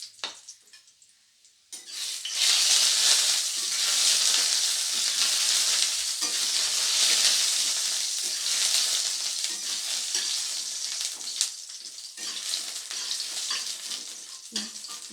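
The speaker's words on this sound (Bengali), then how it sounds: "তেল গরম করে তেলের মধ্যে প্রথমে বড়িগুলোকে ভেজে নেব।" Lentil dumplings (bori) fry in hot mustard oil in a pan, a loud continuous sizzle that erupts after a brief quiet start and carries on with faint stirring scrapes.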